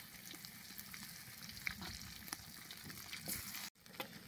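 Meat and rendered tail fat in a kazan over an open fire give a faint, steady sizzle and crackle with occasional stirring clinks and pops, then a brief cut of silence near the end.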